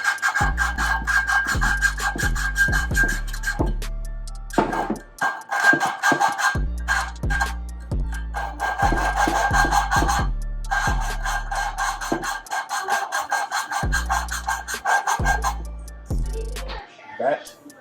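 A lapping tool rubbing an engine valve against its seat in an LTR 450 top end, with repeated rhythmic back-and-forth rasping scrapes in bursts close up, and talking in between.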